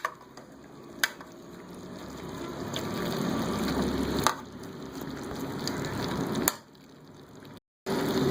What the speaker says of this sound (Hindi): वक्फे से हम इसमें चमचा चला के चेक कर रहे हैं।